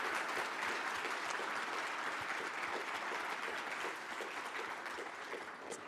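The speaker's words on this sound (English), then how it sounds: "So let's give another round of applause." A conference audience at EuroOut 2022 applauds a panel moderator, with steady, moderately distant clapping and a crowd wash that carries through, easing slightly near the end.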